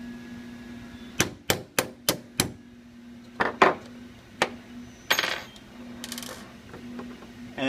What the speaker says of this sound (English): I'm going to use a punch right here. This one's a 1/8 punch. I'm going to hammer out the trigger pin.